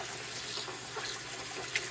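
Tap water runs steadily into a container where a gas mask is being soaked, a continuous close splashing wash with a faint brief clink near the end.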